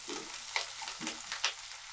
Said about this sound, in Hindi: गोभी को फ्राई करते हुए 4 मिनट हो गया है